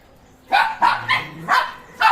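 Aspin dogs bark five times in quick, uneven succession, fairly close and loud, with short gaps between barks.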